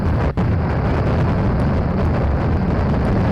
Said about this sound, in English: Come on, rocket engine, there we go.